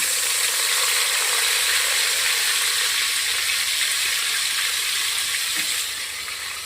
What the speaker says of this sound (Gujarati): તેલના અંદર હું નાખીશ આદુ, મરચાં, લસણ વાટેલા છે